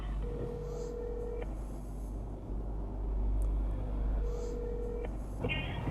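A phone line rings while calling the police emergency line 102, giving two long, steady ring tones a few seconds apart over a low background rumble, with no voices.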